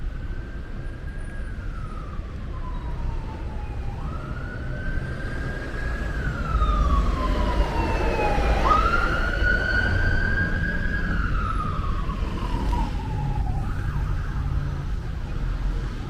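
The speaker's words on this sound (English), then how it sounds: "Always so noisy and so full of traffic." An emergency siren wails and sweeps up and down over the steady rumble of heavy traffic on Avenida Insurgentes in Mexico City, growing louder midway and staying near.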